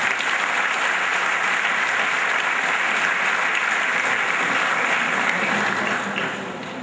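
An audience claps together in sustained, dense applause that holds steady and loud, then tapers slightly just before the end.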